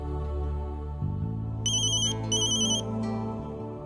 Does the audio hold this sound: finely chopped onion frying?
no